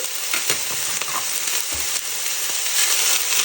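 Chopped onion sautéing in preheated oil, a steady bright sizzle and crackle filling the space, with occasional stirring scrapes and no talking.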